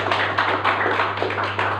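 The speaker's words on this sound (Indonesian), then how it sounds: "Tepuk tangan untuk Coach Haji semua." Brief burst of audience applause for Coach Haji at a Persebaya football club press event, scattered hand claps pulsing unevenly over a low steady hum.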